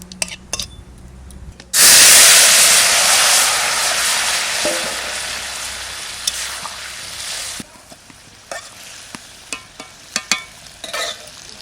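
Bay leaves and cumin seeds hit hot oil for a tempering in village-style cooking. A loud sudden sizzle bursts up and fades slowly over several seconds, followed by scattered clicks and taps of utensils nearby.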